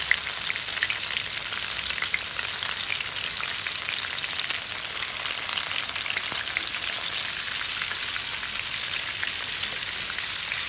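Crumb-coated chicken broast pieces fry in hot oil, a steady dense crackling sizzle that holds evenly for the whole stretch with no voices.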